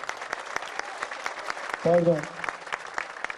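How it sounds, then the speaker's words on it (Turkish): A crowd claps for champion wrestlers at a welcome ceremony, sustained rapid applause over the whole stretch, with a short spoken word partway through. "Kocaman alkışlayalım."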